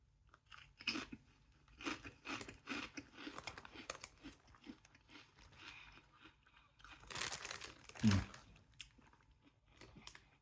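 Beef and red wine gravy flavour hand-cooked crisps are crunched and chewed close to the mouth, with irregular loud crackling bites and a louder crunch near the end, no talking.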